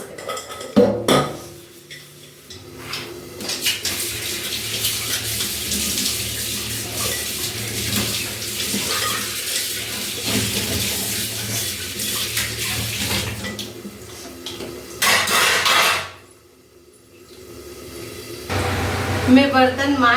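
Dishes are washed at a kitchen sink under a running tap, with water gushing and splashing, pots and utensils clinking, and a person talking over it, ending in quieter moments.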